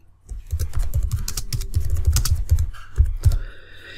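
Rapid typing on a computer keyboard, a dense run of close, crisp key clicks with a few heavier strokes near the end, heard alone without talk.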